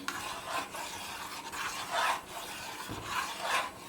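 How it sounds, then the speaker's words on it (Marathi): A spoon stirring rice in a pot as it comes to a boil, giving soft repeated rubbing and scraping strokes at a steady, unhurried rhythm, close and quiet. "तांदूळ चमचा फिरवायचा म्हणजे तांदूळ खाली भांड्याला असे चिकटत नाही"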